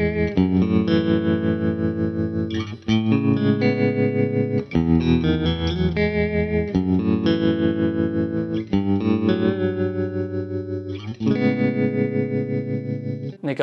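Electric guitar run through an amp sim plugin with a tremolo effect, sustained chords pulsing in steady volume wobbles, loud and close with no speech.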